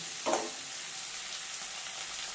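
Peas covered with onion fry in oil, a faint, even hiss with one brief soft clatter near the start, quiet and with no voices.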